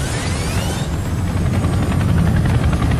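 Boeing Chinook military helicopter of the British air force flying, a loud steady rotor drone with deep pulsing thump and a falling engine whine near the start, continuous and close.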